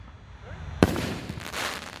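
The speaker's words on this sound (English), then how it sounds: "Nishiki Kamuro, 5-inch, shell number 2." A 5-inch Nishiki Kamuro canister firework shell bursts with one sharp, loud boom, then a crackling, rumbling tail as the sound rolls off outdoors, with faint voices in the background.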